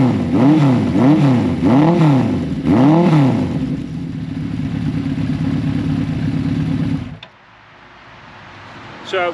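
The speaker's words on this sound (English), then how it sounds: "I'll rev it up a little bit here just so you can get the sound of it" A 1983 Suzuki GS1100L motorcycle fitted with a Delkevic aftermarket exhaust is revved four times in quick succession, each swell rising and falling loudly up close, then settles into a steady deep idle before the engine cuts off.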